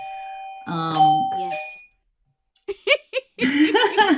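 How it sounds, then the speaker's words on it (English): A doorbell gives a loud, clear ding-dong chime nearby, ringing out before it fades, and afterwards a short reply and laughter follow. "That was a noisy bell."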